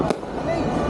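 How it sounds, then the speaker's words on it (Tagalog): Fireworks at the Estancia De Lorenzo display burst loudly, one sharp bang followed by a dense rumbling crackle that fills the short moment. "ito na yung fireworks display"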